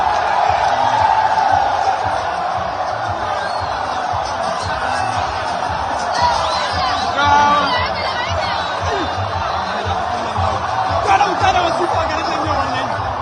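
A large outdoor political rally crowd in Nigeria welcomes Kwankwaso with a loud, continuous roar of many voices, cheers and shouting that holds steady throughout.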